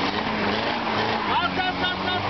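A car revving hard under full throttle, the engine a loud, continuous roar with rising pitch as it pulls away, close by, with people talking over it.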